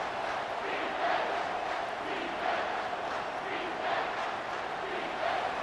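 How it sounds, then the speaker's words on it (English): Crowd at a high school football game in Chesnee roaring for a big third-down play, a steady distant wall of cheering voices that swells slightly in waves. "And if you didn't know this was a big play, the crowd is telling you."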